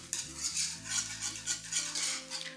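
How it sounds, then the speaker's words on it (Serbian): A cake filling of ground biscuits, walnuts, orange juice and zest being stirred in a pot, soft rhythmic scraping strokes repeating close up, gentle and without speech. "A zatim sve to mešamo."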